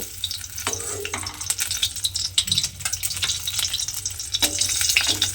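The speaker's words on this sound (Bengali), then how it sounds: "তেলের মধ্যে ডিমগুলো দিয়ে আমি উল্টে পাল্টে একটু ডিমগুলোকে প্রথমে ভেজে নেব।" Eggs fry in hot oil in a pan, a close, busy crackling sizzle with repeated clattering stirs and turns of a spatula, continuous and fairly loud with no talking.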